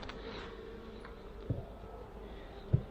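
Honeybees in a weak, mouse-damaged hive after winter hum faintly in a soft, steady drone, with a couple of brief thumps and knocks standing out close by.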